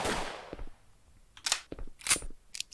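Several sharp gunshots in a prototype first-person shooter game, fired with the mouse: one noisy burst at the start, then a few spaced cracks and a later pair of quick shots.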